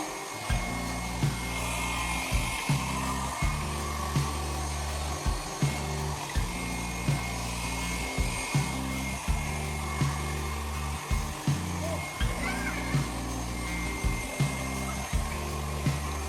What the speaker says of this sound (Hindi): फटाफट से सुखा लेती हूँ हेयर ड्रायर से बाल